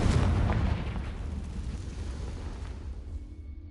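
A Confringo blasting curse explodes in Hogwarts Legacy, a loud, close, broadband blast that fades into a rumbling roar over several seconds with no voices.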